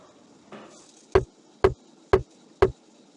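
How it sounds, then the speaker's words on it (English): A rubber mallet knocks a wooden mast into a drilled hole on a toy boat in the 1998 PC game Tonka Workshop: four crisp, evenly spaced knocks, close and loud, after a brief soft rustle. "Knock that mast into the hole you drilled with the rubber mallet."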